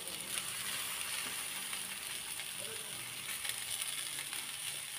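Fish pieces frying in a pan with potatoes, turmeric and salt give a steady, faint sizzle with soft crackles and a few light utensil clicks.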